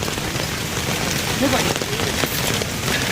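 Heavy monsoon rain pours down steadily on open farmland in Konkan, a dense, loud hiss of drops hitting surfaces close by with no pause.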